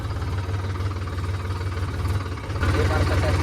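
A tractor engine idles steadily with a low, even throbbing pulse that swells slightly near the end, with a voice talking over it.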